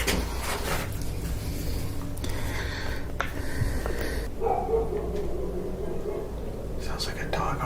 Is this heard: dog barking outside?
yes